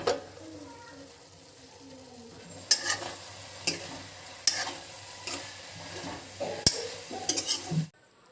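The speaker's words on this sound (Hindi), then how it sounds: "अब बस फिर से ढक के ओला भुंजान देना है टमाटर ला।" Tomatoes sizzle and fry in a pan for a spicy bitter gourd dish, with a low, steady hiss broken by several sharp metal clanks and scrapes of a spoon stirring, nearby and without speech.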